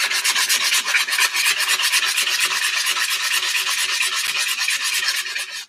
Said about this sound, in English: this heavy grit sandpaper definitely takes care of the shaping of it